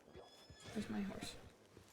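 A horse in a video game whinnies once, a short, fairly quiet neigh in the middle of the moment, with faint clip-clop and voices around it.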